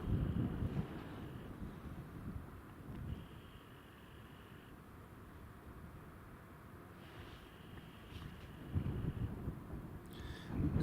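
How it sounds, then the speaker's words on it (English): Strong gusty wind at Newcastle International Airport buffeting the microphone, a low rumbling roar that surges and eases in waves, with faint tonal noise in the background. "That wind has really intensified."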